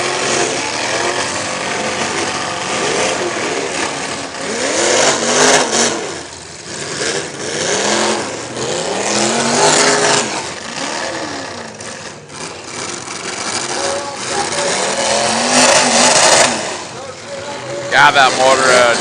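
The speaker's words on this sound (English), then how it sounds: "God, that motor Gilbert's is noisy" Demolition derby car engines revving at an event in Morris, New York, a dense, rough roar that surges and dips continuously, loud and close, with crowd and announcer voices underneath.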